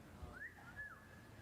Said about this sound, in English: Someone whistled.